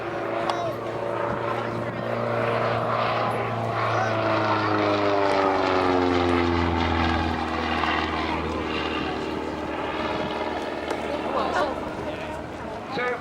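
A propeller aircraft at an air show, either a Bulldog or a Hawker Hurricane, flies past with a rising and falling engine drone whose pitch sweeps downward as it goes by, moderately loud in the open air.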